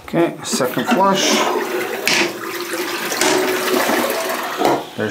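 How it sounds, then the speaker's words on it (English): A toilet is flushed a second time after its clogged drain has been snaked, a loud rushing and gurgling swirl of water that lasts several seconds close by, with muffled voices mixed in. "Okay, second flush."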